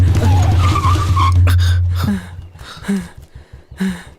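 A car's tyres squeal in a loud skid over a roaring engine that cuts off abruptly, followed by quieter scuffs and brief knocks as it settles to a stop.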